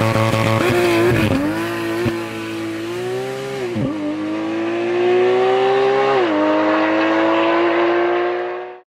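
A Porsche 911 GT3 with its stock exhaust revs loudly and close, the engine note climbing and dipping through several sharp throttle blips before holding a sustained high wail that fades out at the end.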